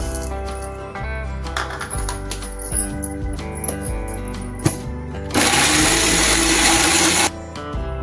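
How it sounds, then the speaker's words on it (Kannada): A kitchen mixer grinder blends raw mango chutney with green chillies, grated coconut and salt, whirring steadily with clattering bursts and a louder, harsher surge of grinding near the end before it stops. "ಈಗ ಮಿಕ್ಸಿ ಮಾಡಿದಾಗಿದೆ."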